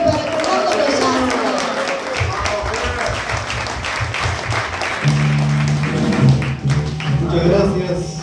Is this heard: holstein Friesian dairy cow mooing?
no